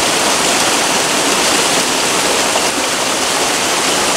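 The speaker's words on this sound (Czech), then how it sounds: "Tohle je normálně stezka plná vodopádů. Podívejte se na to. Všude to tady teče, všude." Waterfalls and running water along a trail on an active volcano, a steady, dense rushing that stays close and loud without a break and has no voices.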